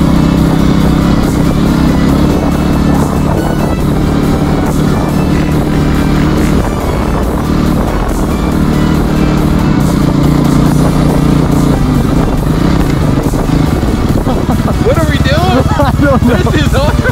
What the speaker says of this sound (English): We're riding dirt bikes in the midst of it all.